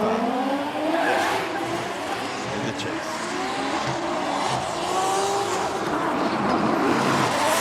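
Formula Drift Japan race cars battle through a Top 32 round at Sportsland Sugo in Miyagi, with loud engines revving and sweeping in pitch and tires squealing through the corners, continuous and close under excited commentary.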